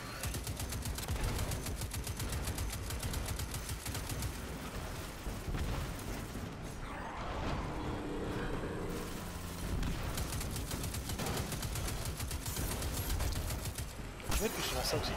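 Heavy cannon fire and explosive gunfire in Destiny 2, with dense repeated blasts rolling almost continuously across the scene, a short lull midway, and game speech mixed underneath.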